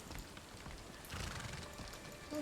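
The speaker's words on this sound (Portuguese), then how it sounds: "Olha o cavalo aí, ó." A horse in the video game Sherlock Holmes The Awakened whinnies against a steady backdrop of clip-clopping hooves and rainy ambience, moderately loud and continuous.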